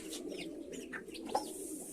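Pigeons coo softly at close range during feeding on mineral-rich soil, a few low rolling calls with small chirps over a faint steady background.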